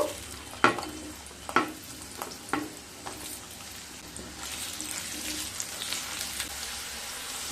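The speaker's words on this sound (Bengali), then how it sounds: "এবার কুমড়োগুলো ভেজে নেব।" Pumpkin pieces frying in hot oil give off a continuous sizzle, with several sharp scraping knocks of a spatula early on and then an even, brighter crackle.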